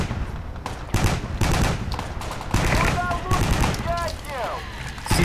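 Bursts of automatic rifle and machine gun fire in the military shooter game Project Reality, loud rapid volleys and fusillades in a firefight, with radio-style voices speaking between and over the shots.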